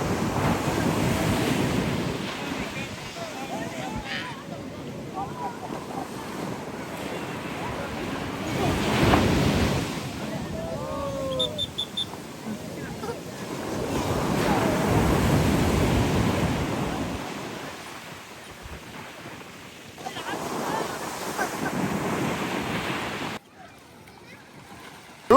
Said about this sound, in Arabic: بحر عالي جدا.